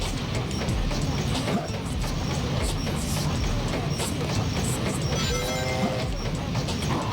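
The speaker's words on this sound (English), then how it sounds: "I do hear the ghost train." A ghost train rumbles continuously in the Sonic Adventure 2 Battle video game, a loud, steady rattling clatter of rail cars with a brief metallic screech partway through.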